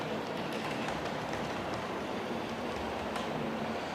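A model train runs steadily over track joints, a continuous close rumble with faint rhythmic clicking throughout.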